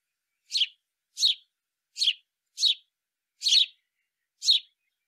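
Purple martin nest site competitor singing: six short, bright chirps spaced about a second apart, close and clear with silence between them and no other sound.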